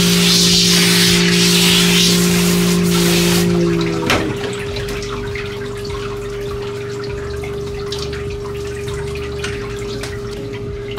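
Running water rinsing shampoo from a puppy's fur during its first grooming, a strong hiss of spray that cuts off sharply partway through, leaving quieter dripping and a low steady hum.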